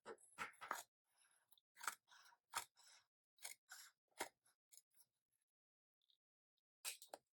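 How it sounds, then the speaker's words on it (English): Large scissors snip through dot grid bullet journal paper in a series of sharp, crisp cuts at an uneven rhythm, close and fairly quiet, with short pauses between bursts and no talking. "This I can use a big scissor for because I have the right angle here."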